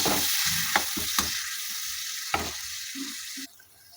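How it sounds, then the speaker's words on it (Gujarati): Frying spices in a pan with a little water added, giving a steady broadband sizzle under scattered stirring clinks and scrapes, close and continuous, fading softer near the end. "2 ટેબલસ્પૂન જેટલું આપણે પાણી ઉમેરીએ, મિક્સ કરી લઈએ।"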